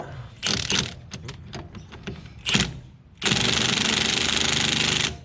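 A Milwaukee power drill on setting 2 threads a part on a 240SX, starting with short stuttering bursts of whirring and rattling, then settling into one loud, steady run of nearly two seconds before stopping.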